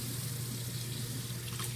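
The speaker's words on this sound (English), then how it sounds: "run them under some water first" Lukewarm water runs steadily from a bathroom sink tap while brass instrument parts are rinsed under it, a constant close splashing hiss with no talk.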